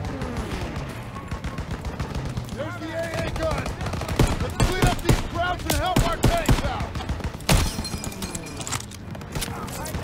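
Rapid bursts of rifle and machine-gun fire crackle almost continuously in the World War II shooter game Call of Duty: WWII, loud and dense, with a player talking over the shooting.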